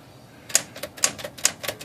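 Sticking keys on a Smith Corona typewriter with bent, disconnected links, clacking in about seven sharp strikes at an uneven rhythm, close and clear with no talk.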